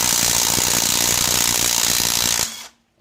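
A brushless 1/2 inch drive impact wrench hammers loudly and continuously while undoing lug nuts, a rapid rattling burst that stops abruptly near the end.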